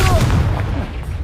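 Confringo blast spell in the Hogwarts Legacy video game, a single loud close explosive burst with a booming low rumble that quickly fades.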